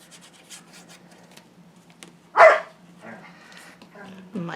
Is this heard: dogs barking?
yes